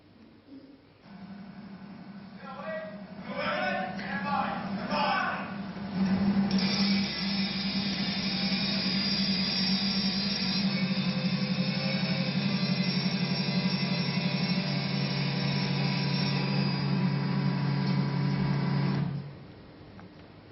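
A self-propelled howitzer gun is lowered during a safety drill, giving a steady mechanical whine and hum that holds for about eighteen seconds at a constant level before cutting off, with a faint squeal and no talk.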